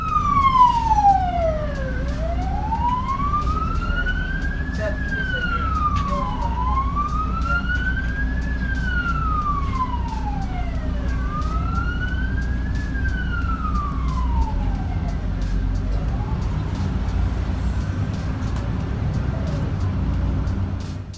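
An ambulance siren wails in slow, rising and falling sweeps over a steady rumble of road traffic, loud and close, repeating about every four seconds and fading toward the end.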